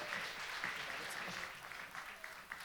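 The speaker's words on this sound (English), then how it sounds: "Let's give them another round of applause" Audience applause at a Martin Luther King celebration held at Essex County College, a steady crowd clapping that carries evenly across the whole stretch before tapering slightly near the end.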